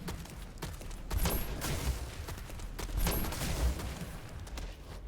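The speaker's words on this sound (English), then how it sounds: "I'd appreciate it if you weren't openly shooting at me." Video game gunfire, a steady stream of rapid shots with a few sharper, louder bursts standing out, dense and continuous throughout.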